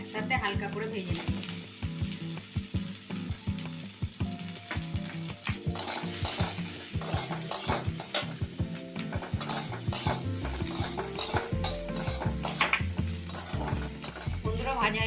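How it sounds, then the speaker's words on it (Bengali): Onions, ginger and garlic sizzle in hot oil in a wok while a spatula stirs them, with steady frying crackle and regular, close scraping strokes. "পেঁয়াজগুলো, কুচিয়ে রাখা আদা আর রসুন একসাথে হালকা করে ভেজে নেব।"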